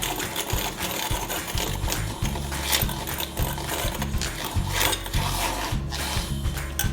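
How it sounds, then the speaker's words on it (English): A handheld milk frother whirs steadily, swirling sweetener into keto low-carb coffee; a continuous buzzing motor hum with slight rattling runs close and loud for the whole stretch, with no talk. "Get our frother and just give that a little swirl to mix our sweetener"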